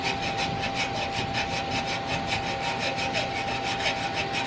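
A hand saw cuts through the metal muffler of an Acura Integra, the muffler being removed, in fast, even back-and-forth strokes, loud and close, with a steady rasp and a ringing metallic tone.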